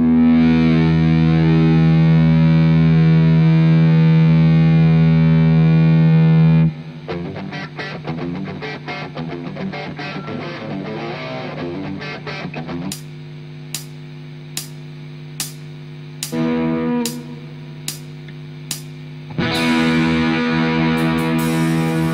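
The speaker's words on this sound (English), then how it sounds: "I've even got a second distortion pedal for this one." Heavily distorted electric guitar rings out in a sustained chord, then chugs in choppy bursts with sharp ticking stops between loud, gritty riffs.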